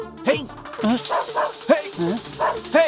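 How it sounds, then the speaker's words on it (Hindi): Dogs bark and yip in repeated short bursts in a comedy scene from a Hindi-dubbed South Indian action romance film, with people talking over the barking. "कुत्ते कहाँ भौंक रहे हैं?"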